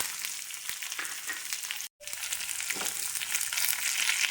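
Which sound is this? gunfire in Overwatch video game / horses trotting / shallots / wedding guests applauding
shallots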